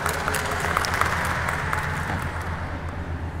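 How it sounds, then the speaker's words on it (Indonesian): Applause from an audience at a youth gathering: a dense wash of clapping that holds steady and then thins and fades near the end, under a low steady hum. "Tepuk tangan untuk kita semua."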